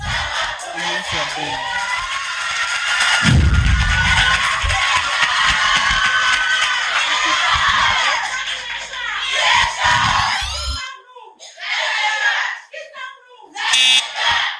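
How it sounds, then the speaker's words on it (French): High school students of the Lycée de Tokoin 1 shouting their war cries at a school contest, a loud sustained crowd roar with bursts of chanting and yelling, then short separate shouts. "Faites-moi écouter vos cris de guerre."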